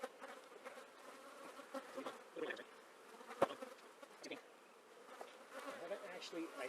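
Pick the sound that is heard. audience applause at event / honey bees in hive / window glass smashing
honey bees in hive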